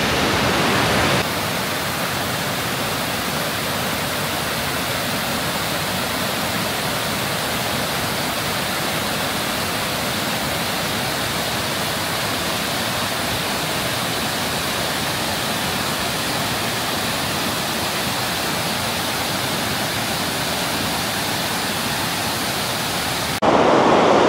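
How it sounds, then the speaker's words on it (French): Yutaki waterfall in Japan, a loud, continuous broadband roar of falling water that stays steady and close throughout, with no talk. "cette cascade là juste derrière moi, la Yutaki, la cascade Yutaki"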